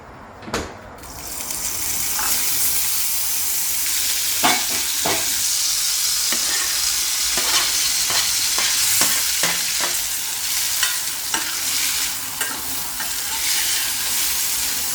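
Air-fried potatoes being stirred in a teaspoon of butter in a small saucepan, close and steady sizzling with repeated spoon scrapes and clacks against the pan throughout.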